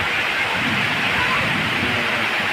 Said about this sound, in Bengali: তীব্র থেকে তীব্রতর বৃষ্টি হচ্ছে সিলেট বিভাগের হবিগঞ্জে।